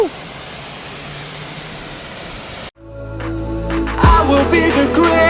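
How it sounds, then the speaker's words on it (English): A waterfall roars as a steady, loud rush of broadband noise, then cuts briefly before returning with louder splashing and a tonal swell layered on top. "decided to stop here, get some glimpses of the waterfall"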